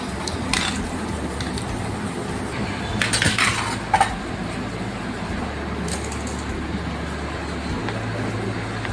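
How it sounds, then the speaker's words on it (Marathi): Washed vegetables go into a pressure cooker pot, giving a few metallic clinks and knocks against soft kitchen background noise. "ह्या सगळ्या भाज्या मी आता याच्यात मी टाकून देणार कुकरच्या भांड्यामध्ये"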